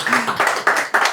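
Audience applause at an Ethiopian-Canadian sports awards ceremony, a brief run of clapping bursts that swell and fade several times in about a second, moderately loud.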